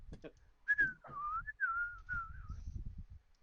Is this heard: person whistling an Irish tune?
yes